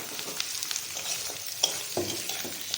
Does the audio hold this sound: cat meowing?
no